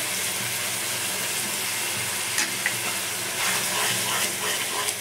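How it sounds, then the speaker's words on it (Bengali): Ripe tomato, sour yogurt and poppy seed paste sizzle in a pan for egg kalia, a steady dense hiss with a few soft stirring scrapes, close and unbroken, with no voices. "দিয়ে দিলাম টক দই আর পোস্ত বাটা একসঙ্গে দিয়ে দিলাম"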